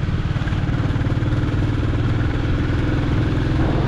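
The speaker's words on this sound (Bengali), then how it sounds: "দেখুন এখনও আমার বাইকে প্রায় 40-45 মতো স্পিড রয়েছে, 4 নম্বর গিয়ারে চলছে।" A motorcycle cruises in fourth gear at about 40–45 on the Rohini bypass road climbing toward Kurseong, its engine a close, loud, steady rhythmic throb with wind rush, no talking.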